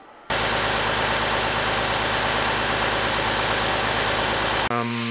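A truck's diesel engine, running rough, runs steadily and loudly with a rough, rattling throb that continues without a break before cutting off abruptly.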